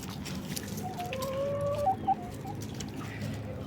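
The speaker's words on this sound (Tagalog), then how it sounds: "ayun yung mga manok ko" Backyard chickens, two-month-old free-range birds, cluck and call softly at middle distance over a steady low farmyard rumble, with a couple of brief louder squawks near the middle.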